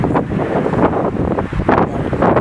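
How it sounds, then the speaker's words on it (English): Gusty wind on a cold, cloudy day buffets the microphone outdoors in rough, uneven bursts, a low roaring rumble that swells and eases. "the wind has picked up"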